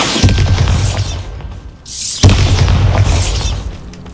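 A Bombarda spell goes off in Hogwarts Legacy with two loud, booming blasts and a shattering crash, each burst followed by debris rumble before the sound fades.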